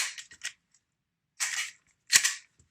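A Glock 19X .177 CO2 BB air pistol fires three times: a few quick light snaps, then two sharper, louder cracks spaced about a second apart, each alone with short clean tails and silence between.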